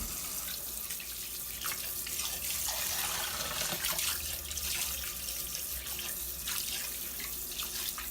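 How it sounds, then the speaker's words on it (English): Tap water runs into a bag that is filling up to cover a turkey for brining, a steady close rush and splash of water in a sink that continues throughout, with no voices. "keep filling that with water"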